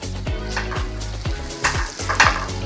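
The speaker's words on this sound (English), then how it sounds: "So I'm just going to saute these through." Onions sautéing in a pan for steak and mushroom stroganoff make a close, steady sizzle, broken by a regular run of low scraping strokes from a spatula and a few light metallic clinks.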